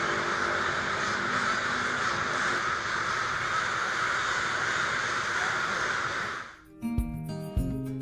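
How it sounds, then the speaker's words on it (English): A large flock of crows gathering on a campus, a dense continuous wash of overlapping caws that fills the air, cutting off near the end to leave a few clearer sounds. "And these are the crows."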